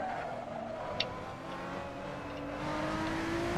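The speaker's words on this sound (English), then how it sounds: "I heard a car on my right there." A video game race car in Assetto Corsa, engine whine rising in pitch as it closes in, with a steady motor drone underneath and a brief click near the start.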